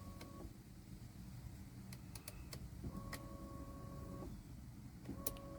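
A 2013 Chevrolet Impala's windshield wiper motor turns while the wipers fail to move, giving a steady low whir with a few faint clicks and thin tones above it.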